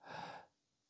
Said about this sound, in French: faites des petites inspires